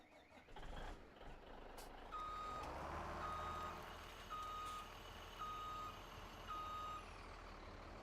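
Reversing beeps from a truck in Farming Simulator 17, a steady series of evenly spaced electronic beeps over a continuous engine rumble, moderately loud with no talking.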